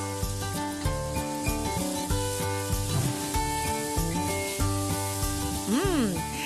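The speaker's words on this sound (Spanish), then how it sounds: "lo rehogamos en el aceite y ahí mismo salteamos el secreto" Pork secreto sautés in oil in a pan with vegetables, giving a steady sizzle under prominent music.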